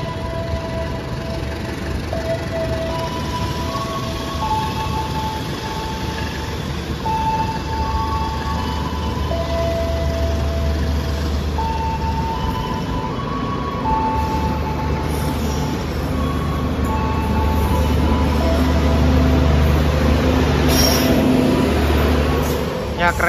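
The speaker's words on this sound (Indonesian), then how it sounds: "kereta komuter lain Walahar telah diberangkatkan dari stasiun Cikampek" Walahar commuter train pulling out of Cikampek station on its Purwakarta to Cikarang run, a steady low rumble of rolling wagons with tonal whines and horn-like notes throughout, heard nearby with station noise and people talking over it.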